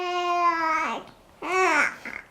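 A three-month-old baby babbles and gurgles in two close, clear vocal bursts separated by a short pause, the second ending in small broken sounds.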